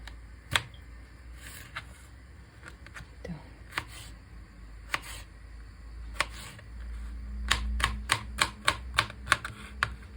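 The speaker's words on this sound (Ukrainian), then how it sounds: "Так, і нарізаємо кубиками." A knife dices a trimmed cucumber into cubes on a cutting board, giving sharp, close chopping knocks, sparse at first and then a quicker regular run of cuts.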